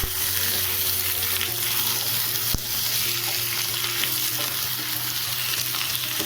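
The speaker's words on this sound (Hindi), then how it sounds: "चलिए इसे थोड़ी देर अच्छे से भून लेंगे।" Flat beans and new potatoes fry and sizzle steadily in a kadhai, stirred now and then with a sharp clink midway, a continuous close sizzle with no voices.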